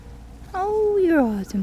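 A single goose honks once, loud and close, in a short drawn-out call at a duck pond.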